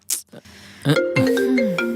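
A mobile phone ringtone plays a bright, repeating electronic melody, loud and close, starting about a second in after a short burst of noise, with no talking over it.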